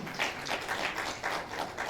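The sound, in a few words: audience applause at a conference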